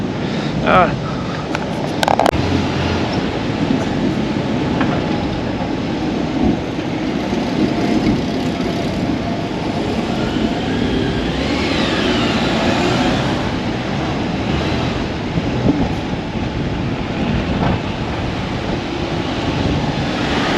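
A Porsche 996 drives through Tokyo streets as a thunderstorm moves in, its engine a steady low rumble beneath road and wind noise throughout, with a brief louder burst early on and faint talk over the top.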